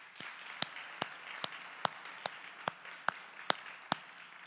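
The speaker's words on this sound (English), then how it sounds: "let's just go ahead and commemorate them and give them a round of applause" An audience at an author event applauding: faint, evenly spaced claps about twice a second over a soft hiss, sounding distant and sparse rather than a full ovation.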